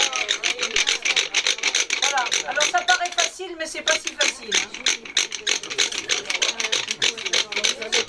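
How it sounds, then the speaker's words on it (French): At a recreated village of ancient Nazareth, a manual hand drill bores a hole, making a continuous, rapid rhythmic rasping and grinding under someone speaking French. "la perceuse manuelle"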